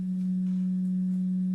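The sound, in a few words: single-frequency tone from a sound generator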